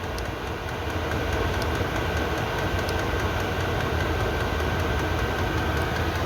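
Chinese Vevor diesel heater burning kerosene, ramped up near full power, gives a steady, close, continuous roar and hum with no pauses and no talk.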